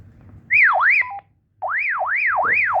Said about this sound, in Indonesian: Ada bunyinya kan, alarm gitu.